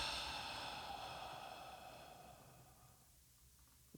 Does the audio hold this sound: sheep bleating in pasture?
no